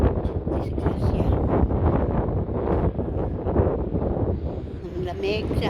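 Cold wind blows steadily in a small park in Manila's 18th district, roaring and buffeting the microphone close up the whole time, with a voice speaking underneath.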